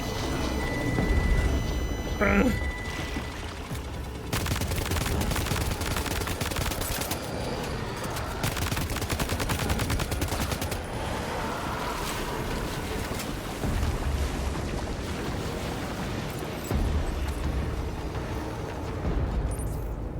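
Gunfire and blood grenade explosions in the video game Death Stranding 2: dense rapid bursts of shots and blasts over a continuous loud roar, nearly constant for twenty seconds.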